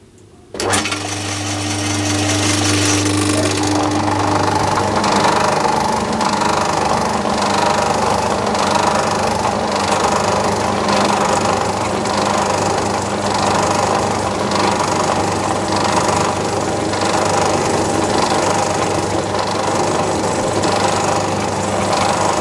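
A Myford lathe spins at 300 RPM while a tool bit cuts metal with cutting oil, starting up to a steady, loud mechanical hum and whir that runs unbroken for over twenty seconds without speech.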